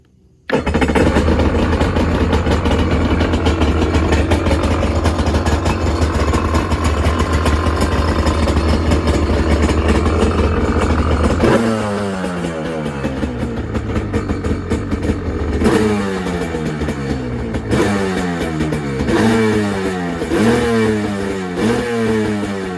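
A Kawasaki SXR 800 jet ski engine, rebuilt after taking on water, fires up abruptly and runs loud and rough, then settles into repeated rising revs in a steady rhythm, close by.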